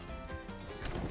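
A horse in a Western ranch role-play video game gives a short whinny amid faint hoof clops, a brief, moderately quiet call with no one speaking over it.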